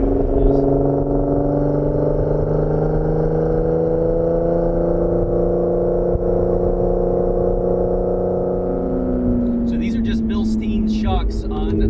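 Supercharged Lotus Evora 400 engine driving on a winding mountain road, a steady loud drone under the ride with rising pitch toward the end as revs climb, voices talking over it.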